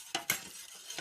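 A spoon stirring condensed milk and cocoa powder for dalgona coffee, with three light, close clinks of metal against the glass or cup in about a second.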